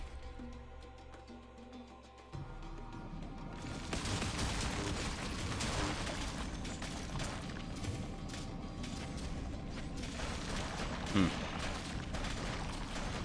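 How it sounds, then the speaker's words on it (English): A loud, sustained burst from an explosion in the video game Odyssey, played with a Whirlwind Viking build. A dense, rumbling blast kicks in after a quieter opening and stays heavy, with a sharp peak near the end. "Kind of just let out an explosion just now."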